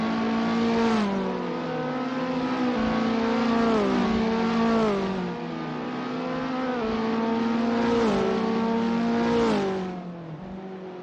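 Race cars pull onto the Albert Park circuit in Assetto Corsa, engines droning loud and close with pitch rising and falling as they shift gears. Several cars rev one after another and there is no talking.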